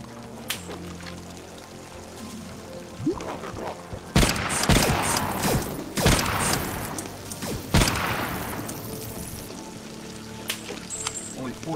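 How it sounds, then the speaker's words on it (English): Rail gun fire in the video game Compound: several sharp, heavy booming shots spaced a couple of seconds apart, loud and close, over a constant mechanical background hum. "Only four shots for the rail gun."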